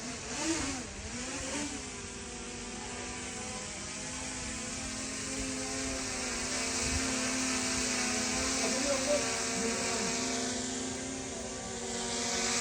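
A DJI drone flies overhead and comes in to land, its rotors giving a sustained buzzing whine that shifts in pitch and swells slightly as it nears, with faint voices in the background.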